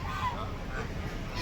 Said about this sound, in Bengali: আর এখানে দেখো কত হাঁস